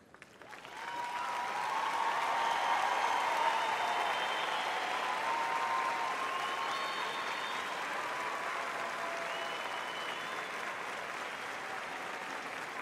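Applause from a graduation audience at Eastside High honoring standing students, rising quickly from quiet into a broad, sustained roar of clapping in a large hall that holds steady for several seconds and tapers slightly near the end.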